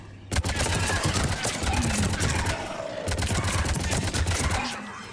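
Dense, continuous gunfire from a sci-fi firefight in Mass Effect on Tuchanka, loud rapid bursts running the whole stretch with a low rumble beneath, while a voice speaks over the shooting.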